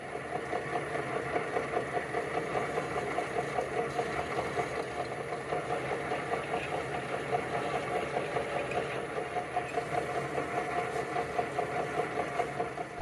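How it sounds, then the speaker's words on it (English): Small metal lathe cutting a 2 mm slot with an old parting-off tool ground down to width, giving a steady mechanical hum with a fine rhythmic pulse, continuous and even throughout with no talk. "To cut the slot, I use an old parting off tool, which I've ground down to 2mm width."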